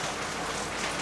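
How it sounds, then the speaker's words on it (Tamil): Steady, dense downpour of heavy rain pattering loudly on a surface, splashing water, continuous broadband hiss with no pauses. "மழை செம்ம மழை அடிக்குது."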